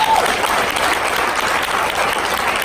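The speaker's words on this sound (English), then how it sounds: "give them a round of applause for standing up." Audience applause from a crowd at a women's panel event, steady dense clapping that fills the whole stretch at close range, loud and continuous with no voices over it.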